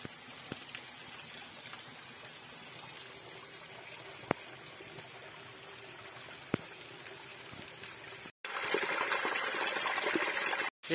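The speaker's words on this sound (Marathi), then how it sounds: "हे पहा मित्रांनो छोटे मोठे धबधबे दिसतात." Small waterfalls and natural springs at Lonar lake, a steady close trickle and splash of flowing water with a couple of brief clicks, growing louder and fuller near the end.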